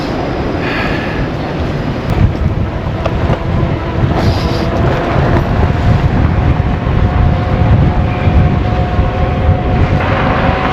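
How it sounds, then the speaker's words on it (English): Strong wind buffeting the microphone while riding an electric bike through Toronto's urban core, a loud, constant roaring rumble with gusty swells throughout and no talk. "This is probably the windiest I've ever had my bike out."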